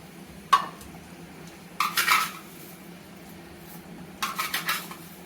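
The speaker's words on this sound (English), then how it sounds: "At this moment, I will put sugar in it." A metal spoon adds sugar to glutinous rice mochi dough in a bowl, making three short close clinking, scraping bursts between quiet pauses, with no talk.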